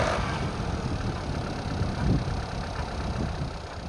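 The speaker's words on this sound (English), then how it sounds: "If I start the engine when it's cold, there's slight noise that's coming from it" A VW Jetta GLI MK6 engine runs at a cold start with a slight noise during its first revolutions, a steady mid-to-low rumbling idle heard close up and alone.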